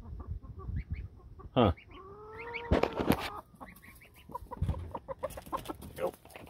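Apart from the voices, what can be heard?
Jersey Giant chicken clucking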